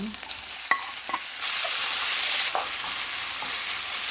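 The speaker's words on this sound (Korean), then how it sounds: "김치는 좀 충분히 볶아주세요" Kimchi stir-frying with garlic in a hot pan for a soybean-pulp stew: a steady close sizzle with a few sharp scrapes and clicks of a utensil stirring, no voices.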